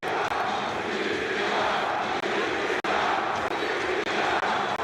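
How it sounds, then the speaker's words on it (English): A packed wrestling arena in Tbilisi roars with a dense, sustained crowd noise, loud and unbroken for the whole stretch. "I don't think we've ever heard a crowd like this before"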